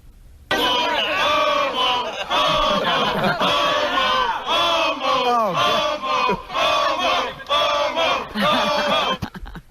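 A loud, close crowd shouts and yells in sustained, overlapping voices, jeering and ragging on a man named Sal, rising and falling without pause for several seconds.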